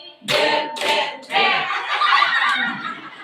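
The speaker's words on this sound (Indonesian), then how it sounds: "Sekali tepuk berdua kali, tepuk bertiga kali," Hands clap together in quick group bursts during an early-childhood (PAUD) literacy and numeracy session, with voices chanting or laughing over the close, rhythmic claps.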